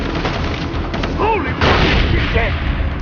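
A grenade goes off in Far Cry 3 as a loud, close blast with a sustained rumbling roar, set against steady gunfire and game noise, and a voice speaks briefly over it.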